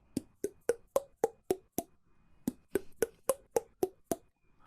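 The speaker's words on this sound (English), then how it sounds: "I'm going to close my glottis and thump my larynx" A voice teacher thumps his larynx with the glottis closed, producing a series of about sixteen soft hollow knocks in two quick runs, each with a faint resonant pitch, near and isolated in a quiet room.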